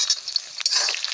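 Onions crackle and sizzle in hot oil up close for a tempering with whole coriander on a village clay stove, a bright, hissing fry with brief stirring scrapes.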